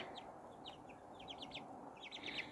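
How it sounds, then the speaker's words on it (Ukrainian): Young chicks cheep faintly in a quick scatter of thin, high peeps, several birds overlapping at a soft distance over a low background hush. "Дуже славні курчатка."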